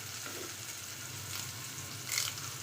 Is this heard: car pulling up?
no